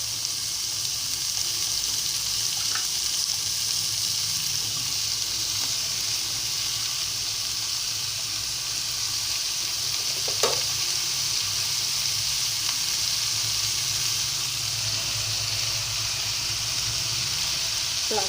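Onions frying in a pan at home, a continuous loud, even sizzle and hiss with a few faint clicks, no talking.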